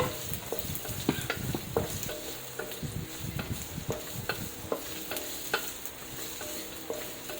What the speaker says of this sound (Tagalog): gisahin lang natin yung ating sibuyas at bawang hanggang sa medyo mamula